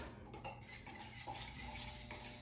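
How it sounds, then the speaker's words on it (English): An old butter knife stirs a can of furniture paint, giving continuous soft scraping and clinking of metal against the tin, steady and close throughout. "I have an old butter knife that I use to stir my paint"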